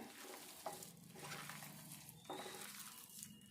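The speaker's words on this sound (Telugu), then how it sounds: "ఇవన్నీ కూడా ఇప్పుడు కలుపుకుందాము" Corn vada batter being mixed with turmeric, cumin and leaves, a soft wet stirring and gentle sizzling hiss with a couple of light scrapes, quiet and close, no speech.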